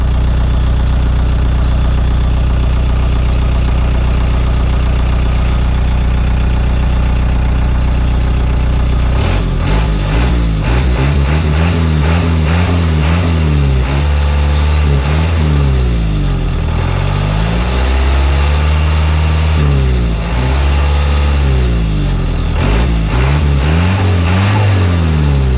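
An Isuzu 4BD1T diesel engine in an NPR truck idles loudly and steadily up close after a restart, then is revved repeatedly in rising and falling surges over the rumbling idle.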